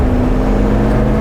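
A Mil-Spec Hummer H1 being floored, a loud, deep, steady engine drone heard close up for a brief moment with no talking.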